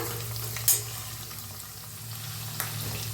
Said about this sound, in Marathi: आता मिक्स करून भाजून घेऊया आता छान भाजलाय बघा लसूण मिरची आपली अद्रक